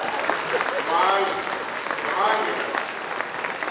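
Audience applause at a Hindi poetry recital by a poet, a steady close wash of many hands clapping with voices and laughter mixed in, swelling slightly around the middle and again near the end.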